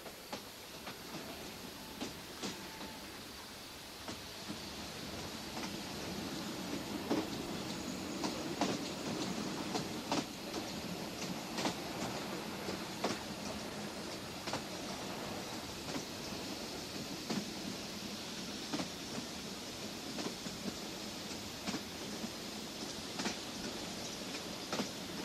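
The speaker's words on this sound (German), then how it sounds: "Auf der anderen Seite fährt dann der Zug auf syrischem Boden weiter." A train on the Baghdad Railway in Turkey rolls steadily along as a continuous rumble, with a regular clickety-clack of wheels over rail joints heard from on board.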